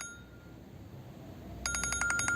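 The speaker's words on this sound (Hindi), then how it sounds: "फोन बज रहा है।" A phone rings, a rapid repeating electronic tone that starts abruptly after a faint high whine, fairly close and clear.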